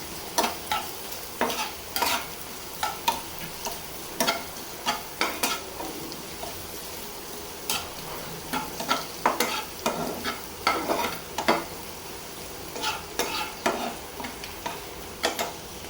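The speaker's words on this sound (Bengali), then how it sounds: "একটু শুকনা মরিচ, রসুন, পেঁয়াজ সব একসাথে করে বাগার দিয়ে দিই।" Dried chili, garlic and onion frying together in hot oil for a Bangladeshi tempering, a steady sizzle broken by frequent sharp scrapes and knocks of a spoon stirring in the pan, close and continuous with no talk.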